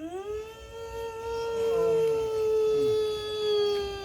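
A dog howls loudly and close, one long wavering cry whose pitch rises and falls, heard on its own with no talk.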